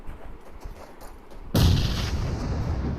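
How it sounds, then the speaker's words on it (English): A grenade explodes during a PUBG Mobile match, a sudden loud blast that cuts in partway through and is followed by a sustained roaring, rumbling tail, with faint gunfire before it. "A nade pops in, but it does no damage to any one of the members"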